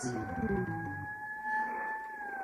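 A police car siren wails in a long steady rising-then-falling tone, fairly close, with a brief low engine rumble at the start.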